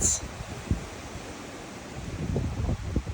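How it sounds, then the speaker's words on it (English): Steady wind buffeting the microphone, a broad rushing roar with gusty swells, outdoors in a driveway beside a 280ZX Turbo, continuous throughout. "I just wish it wasn't as goddamn windy, but it's always windy"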